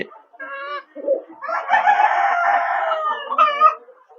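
Sonali hens cluck and a rooster crows on a poultry farm, with short clucks at the start, a long loud crow in the middle and more clucking at the end, close by and with no talking.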